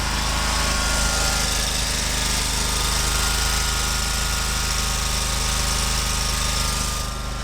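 Heard up close, the engine of a Bob Cat 61-inch ZRT zero-turn mower idles with a steady, even rumble and buzzing vibration that holds constant throughout, with no talking over it.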